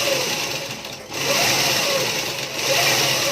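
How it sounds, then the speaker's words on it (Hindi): A sewing machine stitches along a fabric edge for piping work, giving a continuous close mechanical whir with a brief dip in speed partway through, no talk heard. "सिर्फ हम आपको बतलाने के लिए इसमें सिलाई चला रहे हैं। इस तरह से किनारे सिलाई चलाते जाना है।"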